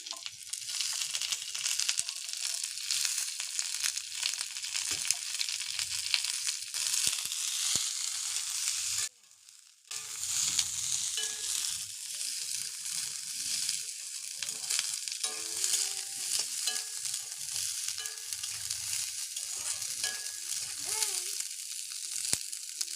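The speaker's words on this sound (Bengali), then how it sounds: "তো আমি আলুর সাথেই শুঁটিগুলোকে তুলে ভেজে নিচ্ছি।" Potatoes and green peas frying together in a kadai, a continuous bright crackling sizzle at moderate level, broken by one brief near-silent gap, with occasional stirring scrapes.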